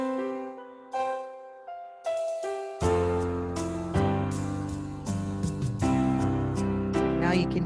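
A digital keyboard plays piano chords, first as separate struck chords and then with an automatic accompaniment drum pattern joining in, steady and up close with no talking.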